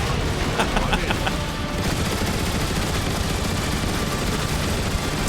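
Turret gunfire from the video game Transformers: War for Cybertron rattles in a dense, sustained barrage with heavy booming impacts, loud throughout.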